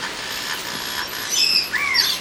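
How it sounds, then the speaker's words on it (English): Birds at an aviary exhibit chirp and call in short, bright tweets and a couple of rising whistles, fairly close over a steady background hum, with no talking. "These birds better keep themselves in check."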